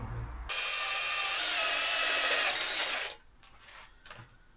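A power drill whirs steadily for a few seconds at high speed, then winds down, leaving faint handling noises afterward.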